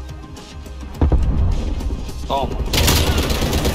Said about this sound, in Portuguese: Tiro na cabeça e outro em qualquer lugar